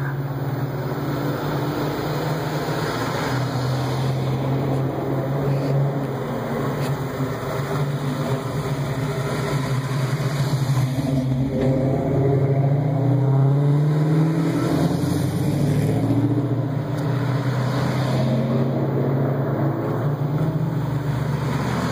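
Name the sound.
Buick car arriving at Mustang club cruise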